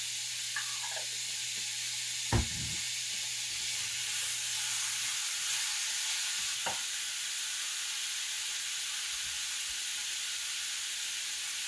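A heaping teaspoon of garlic sizzles in a hot frying pan with a steady bright hiss, broken by a few sharp clicks and light stirring taps. No one speaks.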